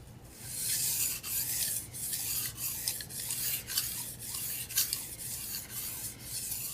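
Kitchen knife blade ground across a wet Japanese waterstone in steady back-and-forth strokes, a close, rhythmic gritty rasp with soft scraping pulses roughly every half second and no talking.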